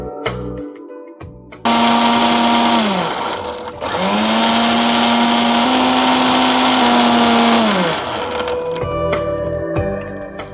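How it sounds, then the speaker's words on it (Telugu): Electric mixer grinder blending a berry smoothie with cashew paste, its motor whirring up loudly in two long bursts with a short pause between, ramping down at the end of each run. "ఇప్పుడు మనం దీన్ని మిక్సీ పట్టేసుకుందాం"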